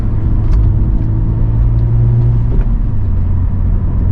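Straight-piped, turbocharged BMW M235i engine holding a loud, continuous low drone with a slight swell in pitch midway, heard alone without speech.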